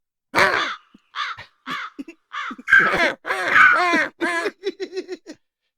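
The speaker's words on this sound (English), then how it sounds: "plays the crow sound" A crow call sound effect, played as a signal during a casual comedy podcast, gives a run of harsh caws that grow rougher and more groaning toward the middle, loud and close, with no talk over them.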